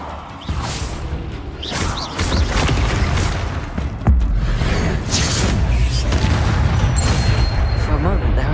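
Repeated Bombarda spell explosions in the video game Hogwarts Legacy pile into loud, overlapping booms and crashes. Sharp blasts and rumbling debris run almost continuously, with a strong hit near the middle.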